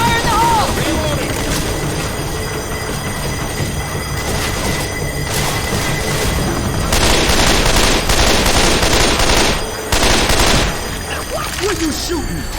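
Rapid gunfire in the zombie shooter Left 4 Dead 2, dense bursts of automatic shots that run loud and nearly continuous, with swells of heavier fire and characters shouting over it.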